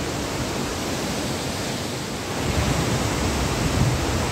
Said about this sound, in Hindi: हुडू फॉल्स के और थोड़े करीब थोड़ा नीचे में आ गए